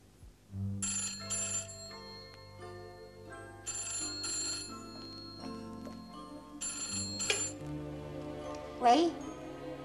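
An old-style telephone rings in bursts, with repeated electronic trills separated by short gaps in an indoor scene from a 1978 Cantonese TV drama. Background tones sit underneath, and a brief voice comes in near the end.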